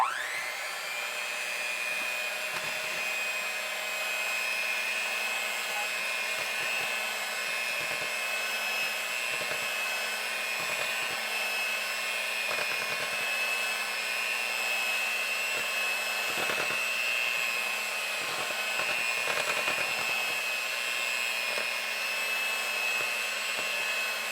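An electric hand mixer whirs steadily at close range through Pillsbury cake mix batter, a continuous high motor whine with small bumps and knocks as the beaters move around the bowl.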